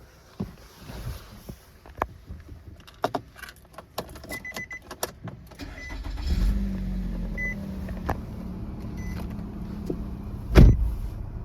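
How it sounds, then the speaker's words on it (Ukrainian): Clicks and small mechanical clatter, then a 2017 Nissan Rogue's engine cranks and settles into a low idle, with a brief louder rev near the end. "Давайте заведемо автомобіль."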